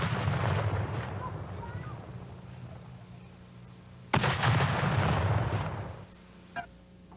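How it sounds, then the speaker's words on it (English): A cannon salute booms at a Memorial Day military service at Fort Sheridan, one loud sudden blast with a rolling rumble that fades over a couple of seconds, following earlier distant rumbling and ending with a smaller thud. "complete with a cannon salute to those who gave their lives in the service of their country"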